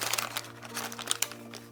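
Milliput putty peels away from greaseproof paper with a quick run of soft crinkles and small crackling ticks, close and brief.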